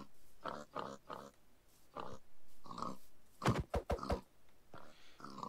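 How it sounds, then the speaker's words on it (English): Minecraft pigs oink and grunt in quick repeated bursts, several short snorts clustered together, fairly close and alone. "I got 15 pigs trying to stand on this"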